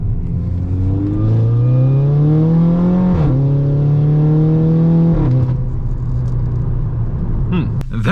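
A VW Golf GTI with a slipping clutch is pulled hard. The engine drones loudly and climbs in pitch in steps across several gears, then eases off near the end.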